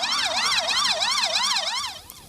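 Emergency vehicle sirens wail on empty city streets during a lockdown. A loud rising-and-falling siren pulses about five times in quick regular sweeps, then fades toward the end.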